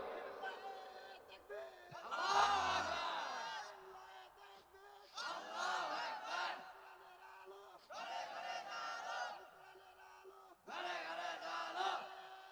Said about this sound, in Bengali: এ ভালো করে একজন তাকবীর দেন দেখি।